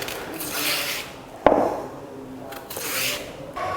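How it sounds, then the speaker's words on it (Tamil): A knife peeling the skin off raw plantain, soft close scraping and rasping strokes with one sharp click partway through, quiet and without talk. "அதில் தோலெல்லாம் சீவி எடுத்துடலாம்."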